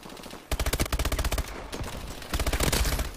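Call of Duty: Advanced Warfare multiplayer gunfire: two rapid automatic bursts of close, punchy shots, the first about a second long, then a short pause and a second burst.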